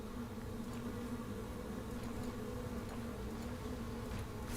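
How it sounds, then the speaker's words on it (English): Wasps buzzing in the video game Stoneshard, a continuous droning buzz with a steady low pitch, moderately quiet and unbroken throughout. "Frickin' wasps."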